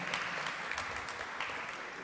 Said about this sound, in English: How about a round of applause for Cornerstone and this great facility.